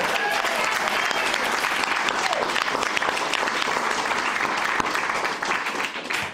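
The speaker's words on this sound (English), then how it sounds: "I want to real quick give Kathy Horvath a round of applause" Sustained applause from the audience at a city council meeting honoring Kathy Horvath, a dense, steady wash of clapping that holds loud for about six seconds and thins slightly at the end.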